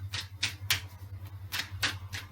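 Tarot cards being shuffled by hand, five or six crisp riffling bursts in an uneven rhythm, close and fairly quiet over a low steady hum, with no talk.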